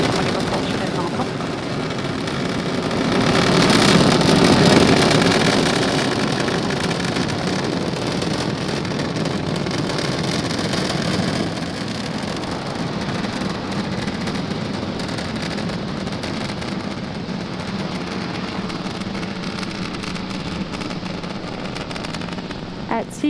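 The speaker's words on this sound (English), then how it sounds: "Falcon 9 has successfully lifted off from Pad 40 at Cape Canaveral Air Force Station" A SpaceX Falcon 9 rocket lifts off from Pad 40 at Cape Canaveral on a Starlink mission, a distant, sustained crackling roar that swells and then fades slowly, with a voice speaking over it.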